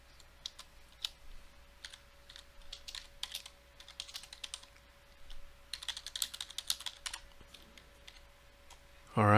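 Computer keyboard typing while a PowerShell script is written, steady bursts of soft key clicks with short pauses, close and fairly quiet over a faint hum, ending in a sudden louder noise.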